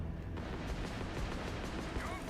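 Beam cannons fire in a spaceship video game, a dense run of booming, rumbling blasts that repeat steadily at moderate loudness, with a louder burst right at the end.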